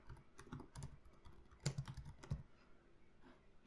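Fingers tap out a short burst of typing on a computer keyboard, with light, irregular clicks close by in a quiet room.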